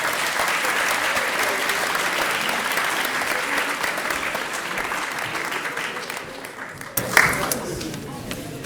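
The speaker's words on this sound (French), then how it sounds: "On peut applaudir, verbatim." Audience at a student eloquence contest applauding: sustained, dense crowd applause for about seven seconds, then a brief loud burst and a voice over fading claps.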